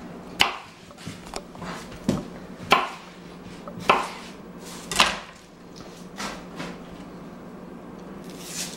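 A knife chops through the top and bottom ends of sweet onions: about eight sharp, close knocks in an irregular rhythm, fading to lighter taps near the end, with no talking.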